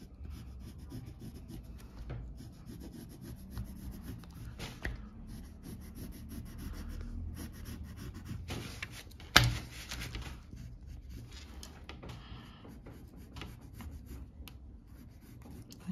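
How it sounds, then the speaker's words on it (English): Pencil scratching a seam allowance line onto fabric while following a bodice curve, a steady close, faint rubbing scrape that runs continuously with one sharp tap near the middle. "Half an inch seam allowance. And I'll just pencil this out"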